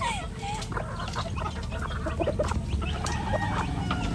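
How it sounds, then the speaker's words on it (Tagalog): Chickens cluck and squawk continuously nearby, several birds overlapping in busy, agitated calls as one aggressive hen fights off another, over steady outdoor background noise. "Matapang talaga yung isang manok oh."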